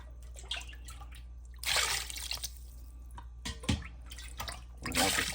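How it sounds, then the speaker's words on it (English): Tap water runs in bursts into a container holding chicken in brine, splashing and trickling at close range, with quiet pauses and drips between pours. "go ahead and fill this up with water"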